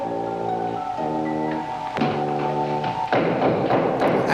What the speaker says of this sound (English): Knocking. I forget what you're supposed to do when you hear that sound.